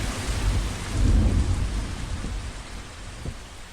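Sudden heavy rain pours down with deep rolling thunder, loudest early on and then easing into a steady downpour with a couple of low rumbles near the end, with no voices.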